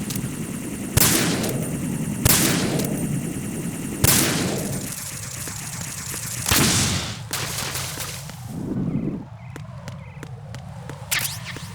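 In Metal Gear Solid 2, several loud, sharp gunshots ring out at irregular intervals of one to two seconds, each with a short tail, over a background of game ambience.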